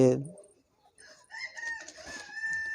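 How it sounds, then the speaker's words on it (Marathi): A rooster crows loudly nearby, followed after a short pause by chickens clucking and calling, with more crowing rising over the flock. "इथं कोंबडी आहे"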